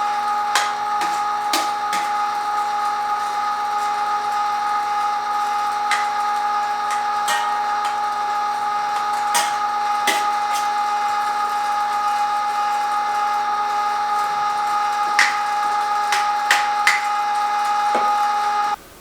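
A meat grinder runs steadily as it fine-grinds a venison and bacon burger mix, a constant motor whine with scattered sharp clicks and knocks, loud and close with no talk.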